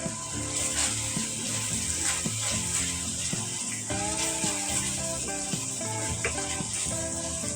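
Ground spices (salt, chili, turmeric, coriander and cumin powder) sizzle steadily in a pan over continuous frying hiss with scattered clinks and background music-like tones, no talk.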